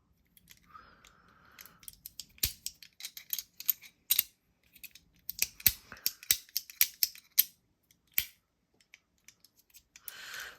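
A Mackie CP-2 Zirc SS fidget toy set up as a clicker, giving sharp, close mechanical clicks in irregular bursts and short runs against a quiet background.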